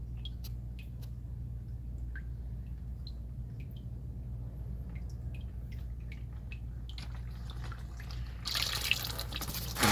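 Used engine oil from a 2019 RAM 1500 Rebel 5.7L V8 drains after an engine flush, a soft steady trickle and faint drips over low garage hum, with a louder splash near the end.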